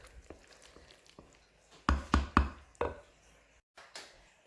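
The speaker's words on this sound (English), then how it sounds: "I'm just going to give it a good little stir here" Spoon knocking and scraping in a pot of chicken corn chowder, a few sharp clunks clustered midway amid quieter stirring scrapes, close and moderately loud with no talk.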